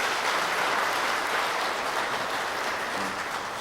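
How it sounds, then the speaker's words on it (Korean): A church congregation applauds to welcome guests during a Sunday service, a dense, even clapping that fills the space for several seconds and holds steady before easing slightly at the end. "여러분들 환영의 박수 부탁드리겠습니다"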